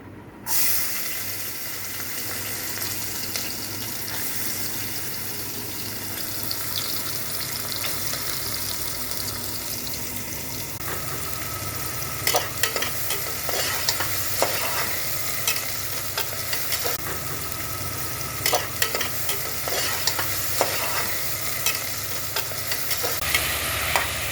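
Tomatoes, onions and garlic with turmeric and salt sizzle and hiss steadily in a hot pan while a utensil stirs and scrapes now and then, with no talking.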